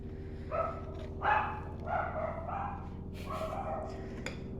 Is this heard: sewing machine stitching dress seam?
no